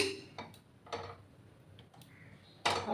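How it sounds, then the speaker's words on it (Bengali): Small metal kadai wok set onto a gas stove in a home kitchen, a few sharp clinks and knocks spaced out, ending in a louder clatter, close by. "ছোট্ট কড়াই বসিয়ে দিলাম"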